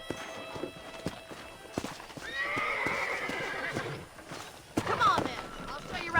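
A horse in the Red Dead Redemption video game gives a long, loud whinny with a second neigh shortly after, over the irregular clip-clop of hooves, with speech around it.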